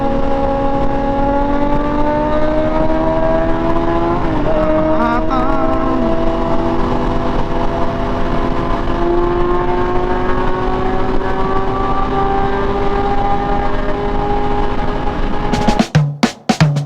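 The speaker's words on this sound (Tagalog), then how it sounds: "Ang baba ng gear ratio niya, ang ingay, sumisigaw lang yung motor." A loud motorcycle with a low gear ratio and a stunt bar rides close by, its engine screaming at high revs with rising and falling pitch, and a burst of wind noise near the end.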